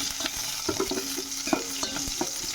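Curry leaves and onion frying in hot oil for a cabbage curry, with crackling sizzle, scattered pops and a stirring scrape running steadily throughout, fairly close and moderately loud with no talk.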